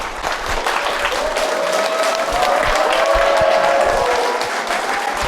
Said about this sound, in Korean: 큰 박수로 우리 한번 힘을 불어넣어 주시기 바랍니다